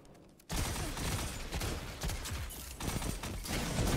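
A shotgun fires in a video game, a loud sudden blast that cuts in after near silence and keeps rolling in dense crackling gunfire and impacts.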